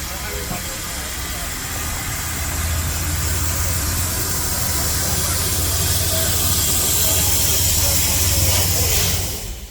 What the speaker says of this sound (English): the Tahoe disconnects from its consist and pulls aside